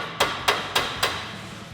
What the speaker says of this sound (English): If you have to, you can tap down on this with a hammer.